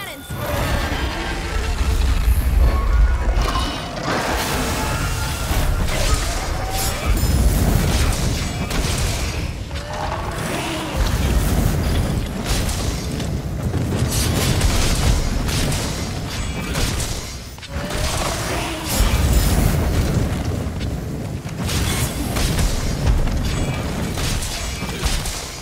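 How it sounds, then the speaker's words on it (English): Cannons fire at Fatalis in a Monster Hunter battle, heavy repeated booms and crashes layered with game music and effects that stay loud throughout. "Make use of the ballistae and cannons!"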